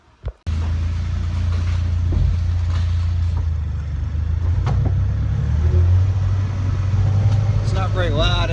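A Polaris Slingshot with stock exhaust driving, a steady low engine drone heard from on board, fairly loud and continuous with mild swells in pitch, and a voice briefly speaking near the end.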